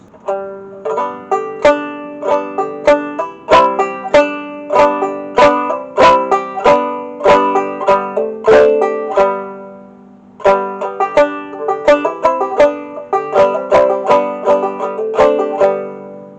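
Banjo chords ring out in a steady, bouncing rhythm, with quick hammered-on notes adding extra attacks; a brief pause breaks the pattern midway before it resumes.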